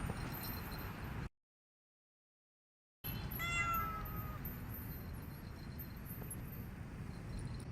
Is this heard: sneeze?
no